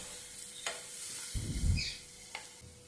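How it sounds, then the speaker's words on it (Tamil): Peeled potato is stirred into onion and tomato in a pan, giving a couple of light scrapes and one short, fuller stirring burst at a moderate distance, with no voices. "ஆட் பண்ணி நல்லா வதக்கி விடுங்க"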